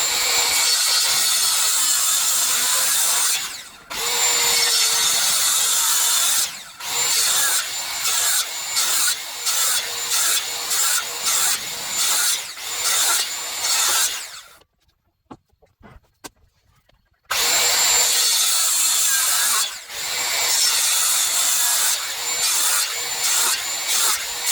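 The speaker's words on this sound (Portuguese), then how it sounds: "vou passar a circular cortando aí" A circular saw cuts through solid wood for rustic table legs, loud bursts of whining cutting broken by short pauses and a quiet stretch in the middle, with chickens clucking faintly in the background.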